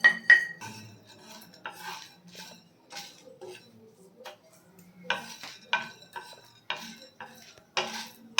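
A metal spoon stirs whole spices (cinnamon, green cardamom, cloves, black peppercorns) frying in a pan for a mutton curry, giving repeated scraping clinks in uneven bursts with quiet gaps and faint sizzling.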